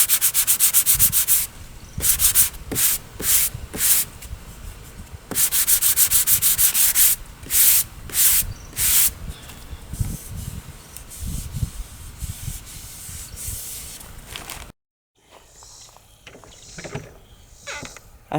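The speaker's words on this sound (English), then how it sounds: "Now time to sand that down." Sandpaper scrubs dried wood filler on a wooden three-drawer dresser in loud, rasping back-and-forth bursts of varying length, ending with a short pause and a few quieter strokes.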